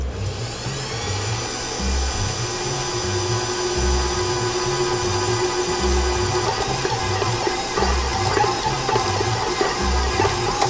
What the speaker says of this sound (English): Make sure you hold the bowl securely to the KitchenAid. If not, it'll start bouncing around.